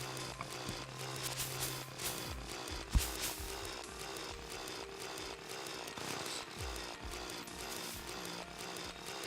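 A drill from the video game Terraria buzzes continuously in a harsh, chainsaw-like grinding whine with one sharp thump partway through, fairly quiet and without talk.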